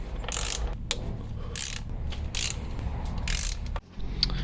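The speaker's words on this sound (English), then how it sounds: "I'm gonna go ahead and undo the bolts" A ratchet wrench loosens bolts on a car's intake plenum, with repeated bursts of rapid clicking between pauses and close metallic handling sounds, no voices.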